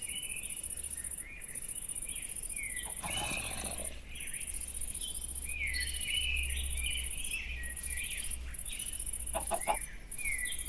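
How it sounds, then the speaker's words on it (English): Chickens cluck a few times in the Minecraft video game, short clucks rising over a steady bed of chirping crickets and outdoor ambience. "Okay, where is chicken?"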